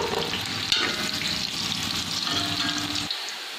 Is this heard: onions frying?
yes